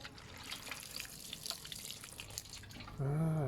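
Water poured into a saucer beneath a Colocasia Pharaoh's Mask plant pot, a soft trickle and drip that swells into a louder, steady pour near the end.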